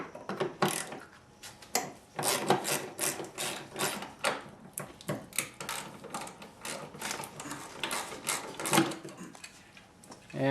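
Ratchet wrench removing the two 10mm bolts that hold the coil assembly on a Nissan KA24DE engine in a 240SX S13, heard up close as irregular bursts of quick metallic clicking with short pauses between strokes.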